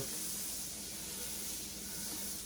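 A tablespoon of butter sizzling in a hot pan for chicken Florentine: a steady, fairly loud broadband hiss that does not let up, with no talking.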